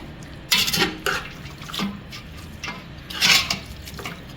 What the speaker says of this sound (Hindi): एक इसे स्टर दे दूँगी अच्छे तरीके से ताकि ये अच्छा सा मिक्स हो जाए